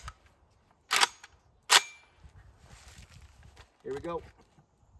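A suppressed rifle shot fired outdoors through a Resilient Putnik suppressor with supersonic ammunition: a loud, sharp crack followed by a second burst moments later, with a voice speaking briefly afterward.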